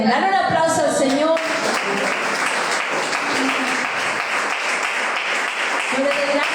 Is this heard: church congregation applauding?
yes